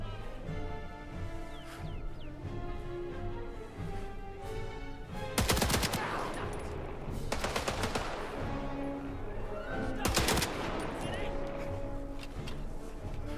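Machine gun fire in the Indiana Jones and the Great Circle video game, loud bursts cutting through game music and effects, with one sustained burst mid-clip and another shorter burst later.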